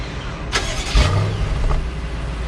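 A 2022 BMW M850i xDrive Gran Coupe engine starting by remote start: a short crank followed by the engine catching and settling into a steady low idle, heard up close with no talking.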